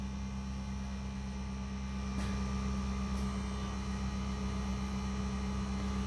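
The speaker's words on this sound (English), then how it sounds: "Now the Sensotronic brake control system is activating" The Sensotronic brake control pump of a Mercedes W211 runs with a faint, steady electric hum and whine, holding constant with a couple of soft clicks, close and alone with no voices.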